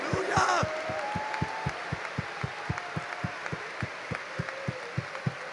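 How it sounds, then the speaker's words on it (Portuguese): A church congregation claps hands in a steady, evenly spaced rhythm during a sermon, single sharp beats roughly twice per second, with a brief burst of voices near the start and a faint sustained tone underneath. "Bata suas palmas para louvar o Senhor aí."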